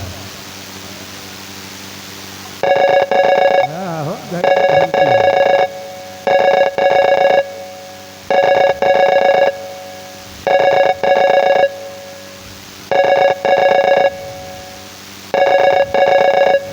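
A telephone rings after a number is dialed, heard as loud repeated double-ring bursts in an even pattern over steady hiss. A faint voice briefly stirs near the start.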